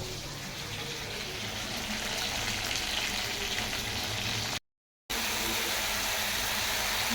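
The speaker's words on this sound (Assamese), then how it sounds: "এতিয়া মই পটল ভাজি আছোঁ" Pointed gourd (potol) frying in a pan gives a steady, broad sizzle that runs continuously near the mic, with a brief dropout partway through and no talk.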